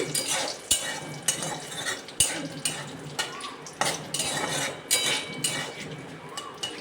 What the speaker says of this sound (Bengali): জিরে ফোড়ন দেব, আর যেই ফোড়নটা খুব সুন্দর গন্ধ বেরিয়ে যাবে